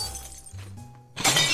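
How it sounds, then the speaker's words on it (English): Window glass shattering in the Klepto burglary game, one sharp bright crash near the end after a quiet stretch of low game hum. "The breaking of the window, you gotta be kidding."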